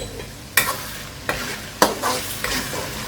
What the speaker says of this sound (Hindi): और अब मैं इनको मिक्स कर देता हूँ